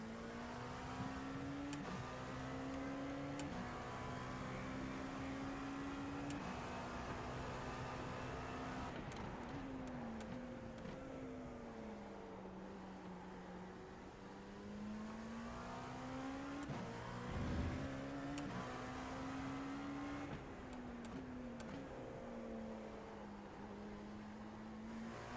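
An LMP2 prototype race car at Daytona in a racing video game drones steadily, its engine pitch rising through the gears and dipping under braking, with brief shifts and a rival car nearby, no speech.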